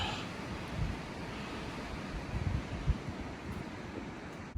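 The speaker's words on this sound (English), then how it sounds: "It's cold, windy up here." Strong winter wind roars steadily across an open, cold summit in Linville Gorge, buffeting the microphone with gusty low rumbles, no voices heard.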